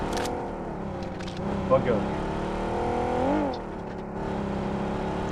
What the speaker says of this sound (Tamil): அங்க ஒரு வண்டி வருது